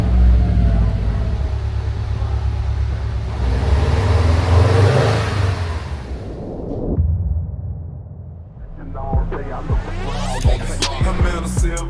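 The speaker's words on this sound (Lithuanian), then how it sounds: "Laikas užvesti variklį." A car engine starts up and runs with a rough, revving rumble, close by, followed by a quieter stretch as it idles, with music playing over it.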